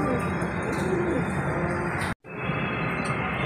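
Pigeons coo softly and repeatedly against a steady background hum, with a brief dropout partway through.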